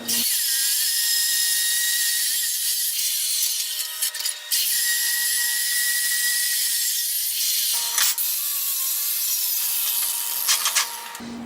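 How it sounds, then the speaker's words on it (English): Metal plates for a homemade bench vise being cut out, a loud continuous high-pitched grinding whine from a power tool that carries on throughout with only brief dips. "So 3 by 4 plates. Yeah, let's cut them out."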